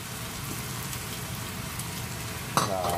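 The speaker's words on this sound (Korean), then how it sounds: "넣고 한 번만 볶아주세요" Garlic sizzles steadily in hot oil in a pan for Chinese-style chili shrimp, then chili sauce is added near the end, bringing a sudden sharper burst of frying.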